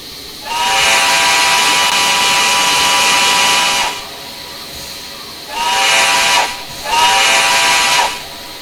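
A loud steam whistle blows one long blast, followed by two shorter toots, with a hiss of steam underneath, from an MNRR 0-6-0 switcher locomotive in the Trainz simulator.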